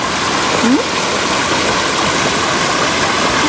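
Rushing floodwater after heavy rain on a farm pours as a constant, loud, broadband roar with no pauses, close and dense, with a faint low hum beneath it.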